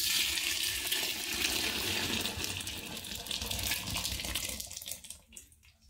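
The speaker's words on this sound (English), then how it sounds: "So we're going to very carefully take that piping hot stock pot full of sauce and pour it in." Piping hot homemade tomato sauce pours from a full stock pot into a mesh strainer bag, a close, continuous rushing splash that thins to trickles and drips at the end.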